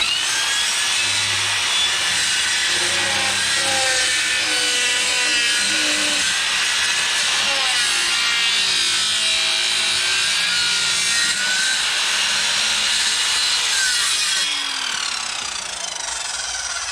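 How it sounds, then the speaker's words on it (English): A power saw cuts timber for a VW Kombi floor, a loud close whining roar with shifting pitch as the blade bites and the motor strains through the wood, with no voices. "don't start with the blade against the timber. All right, get it spinning first."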